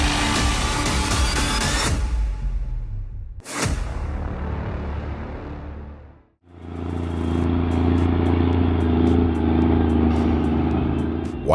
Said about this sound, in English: that truck is fighting the mountain with a massive load of timber